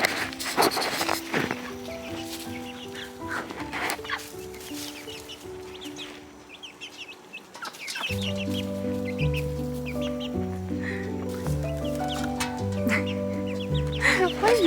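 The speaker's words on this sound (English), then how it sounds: "Oh my goodness, the chickens are up on the table." Chickens cluck and murmur from a tabletop indoors, soft intermittent calls heard beneath a steady melodic music track.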